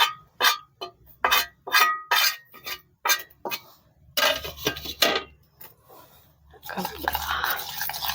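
Omelette eggs are whisked with spices in a bowl, with a series of quick, close clinking strokes against the bowl that come in bursts, under occasional talk.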